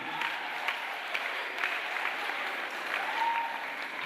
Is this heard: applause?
yes